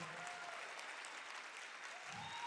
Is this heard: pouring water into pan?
no